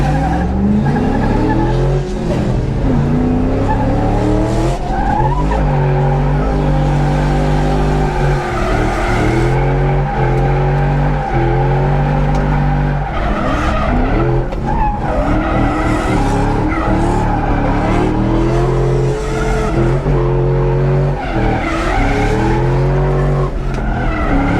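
A race car running on nitrous, a borrowed car at a drag-style launch, with loud continuous engine roar, repeated revving sweeps and tire squeal throughout, close and dominant.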